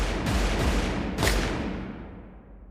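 Loud, booming gunshots crack in a quick volley of several blasts, echoing and fading away afterward.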